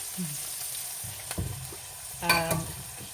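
Quiet sizzling of homemade burgers frying in a pan, with a few louder clatters and bursts of hiss as the burgers are moved around.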